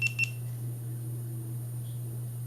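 A GoPro Hero 5 Black camera, under repair after a motherboard replacement, gives two short, close electronic beeps at the start over a steady low electrical hum.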